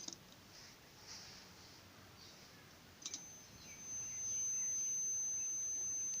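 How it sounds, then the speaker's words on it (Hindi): A continuity tester emits a steady electronic beep while checking one pole of a double-pole earth leakage circuit breaker (ELCB), faint at first, then a sustained tone holding for the last couple of seconds alone. "बीप साउंड आ रहा है, इट्स मीन के इसका वन पोल ठीक है।"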